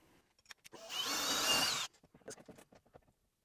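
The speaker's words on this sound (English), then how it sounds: "I'm going to drill a hole in this side with the spade bit" A power drill with a spade bit bores a hole through a house wall and siding, a steady loud whine lasting about a second, framed by brief clicks and handling knocks before and after.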